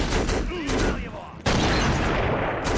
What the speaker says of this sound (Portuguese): tem um cara atirando de rifle aí